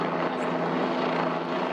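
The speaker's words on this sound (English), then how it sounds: "The New Hampshire State Police helicopter was also airborne" A New Hampshire State Police helicopter flies during a water search, producing a steady, fairly loud rotor-and-engine drone that holds constant with no voices.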